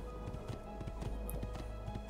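Horse hooves clip-clopping in the video game Assassin's Creed 2, a quick run of soft, muffled hoof taps at a trotting pace, faint under a steady background ambience.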